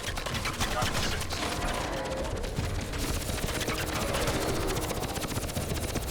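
Gunfire in the video game Crysis rattles on as dense continuous automatic bursts with a mechanical clatter. The roar fills the whole stretch at steady loudness and sounds like a game mix.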